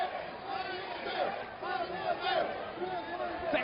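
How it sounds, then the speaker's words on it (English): Wrestling fans at the TNA Asylum cheer and roar during a Raven vs James Storm match, a continuous crowd noise swelling in waves underneath a commentator's voice. "Fans at the TNA Asylum cheering on Storm with every move"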